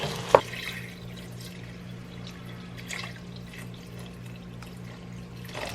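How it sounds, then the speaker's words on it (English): Water pours steadily into a pot for sinigang pork rib soup, a constant wash of liquid after a brief clink at the start, close and moderately loud. "I'm gonna add some water."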